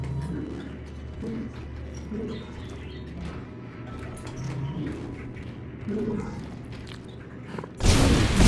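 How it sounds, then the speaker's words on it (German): Pigeons cooing in the video game Dead Space 2, soft repeated low coos with faint chirps and wing flutters, ending in a sudden burst of broadband noise. "Süße Vögelchen."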